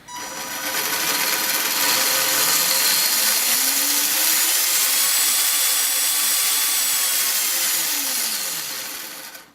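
Drive axles and a brushed electric motor of an RC car running steadily, a continuous close whirring and grinding hum that swells in pitch and then winds down near the end, with no voices.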